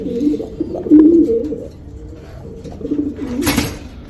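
Racer pigeons coo in soft, low, throaty bursts close by, several rolling calls repeating with short pauses, and a brief rustle or flutter near the end.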